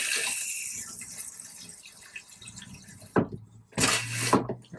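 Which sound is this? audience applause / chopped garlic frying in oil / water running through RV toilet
water running through RV toilet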